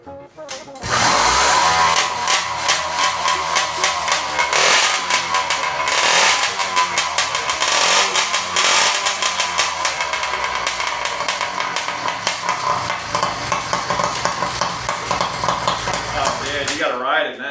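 A two-stroke engine on an electric hybrid rig fires up and runs loud and close, a continuous buzzing, rattling drone that revs up and down without letup. A person talks over the engine noise.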